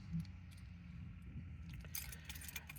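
A bunch of car keys jangling in a hand, light metallic clinks in short bursts over a low background hum, quiet and close.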